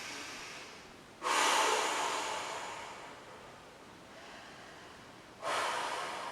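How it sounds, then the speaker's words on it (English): Two slow, deep breaths from someone lying on a mat during a Pilates session: a long airy inhale-exhale swell, a quieter stretch between, then a second breath starting near the end, close and alone without talk. "just start to slow your breathing down"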